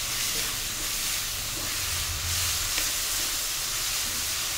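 Onion and masala paste frying and browning in a pan for aloo chhole, a soft even hissing sizzle with faint stirring and a low rumble behind it.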